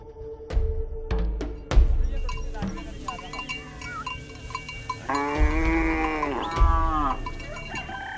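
A herd of cattle moos in a rural African homestead enclosure, with several close, drawn-out lowing calls overlapping, plus a few sharp knocks and faint clinking, like cowbells, among the animals.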